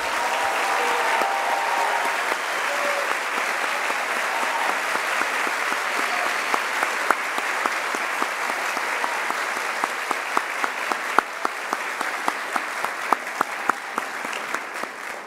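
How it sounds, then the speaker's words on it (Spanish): Broad applause from a large audience at a university graduation ceremony at Universidad de La Sabana, a steady wash of clapping with some sharper, closer individual claps standing out toward the end. "Un aplauso."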